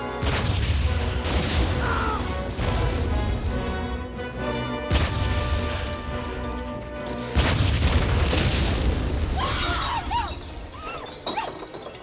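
Heavy artillery explosions in a World War I era TV drama, a loud continuous barrage of booms and crashing blasts across the whole stretch, with sharp bursts near the five and seven second marks and no clear speech.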